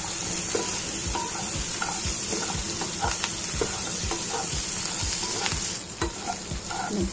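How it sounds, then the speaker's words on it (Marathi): Garlic and onion stir-fried in a pan for kanda lasun masala, a steady close sizzle with a regular scraping stir about every half second, continuous and loud with no voices. "लसूण चांगला लाल होईपर्यंत आपल्याला परतत राहायचं."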